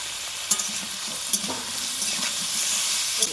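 Spinach and paneer curry being sautéed in a pan, a continuous sizzle with sharp spatula stirs and scrapes clicking against the pan every second or so, close and fairly loud.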